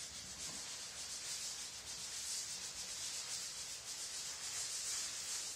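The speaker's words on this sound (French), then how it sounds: "y aller en frottant jusqu'à temps que ça sèche" Steady rubbing of a trowel or float over a micro-topping concrete surface as it dries, a continuous faint scraping hiss with no breaks and no voices.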